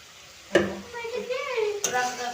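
Green peas and ripe tomatoes tipped into a hot pan for potato curry, a sharp clatter as they land followed by a rising sizzle and a second knock, close by, with a brief tonal voice-like sound mid-clip.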